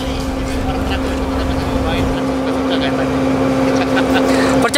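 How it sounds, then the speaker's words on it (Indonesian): An off-road Jeep engine is held at full throttle on a rough trabas track, a loud, sustained droning whine with a steady pitch, while a voice talks over it. "Kapan lagi bisa nginjek pedal gas sampai mentok."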